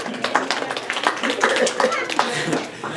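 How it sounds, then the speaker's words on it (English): Scattered hand clapping from an audience at a Chanukah lecture, uneven and moderately close, mixed with voices and light chatter. "Please give yourselves a very hearty round of applause."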